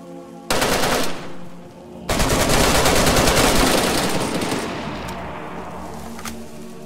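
Loud bursts of automatic gunfire from the survival game DayZ, a sharp opening volley that pauses briefly, then a long sustained fusillade that gradually thins and fades into scattered echoing shots.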